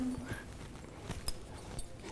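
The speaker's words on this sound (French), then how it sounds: "suivre avec votre pas le rythme des pas du cheval" Soft, irregular hoof steps of a horse walking in a riding arena, faint and close with light ambient noise.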